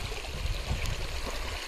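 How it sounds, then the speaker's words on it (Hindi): River water runs over stones where two streams meet in a jungle, a steady close babbling rush with faint gurgles and no talking. "ये देखिए ये पानी यहाँ से आ रहा है"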